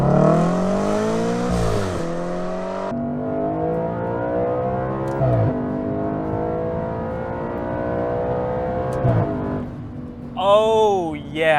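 A naturally aspirated 4.2 V8 in an Audi RS5 revs hard past 8,000 RPM, its rising harmonic howl loud and continuous, with a sharp climbing rev flare near the end.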